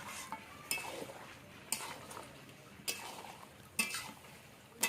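Mutton cooking down in a pot while a spoon stirs it, with faint sizzling underneath and occasional sharp metallic clinks about once a second, quiet and close, with no talking.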